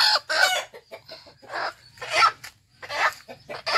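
Several chicken clucks and rooster-like calls come in short bursts from a bird held close by, loud and near, with brief pauses between them.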